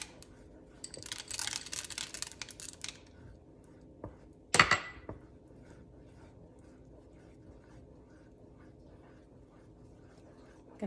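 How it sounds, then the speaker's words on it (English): A spoon scrapes and clinks against a pan while chocolate chips are stirred into a mixture, with a busy patch of scraping early on and one sharp metallic knock midway, followed by quieter stirring. "Gonna just stir, fully incorporate it so it gets that really nice chocolatey brown rich color."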